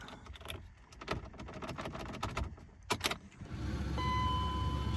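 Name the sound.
new car key inserted and turned in ignition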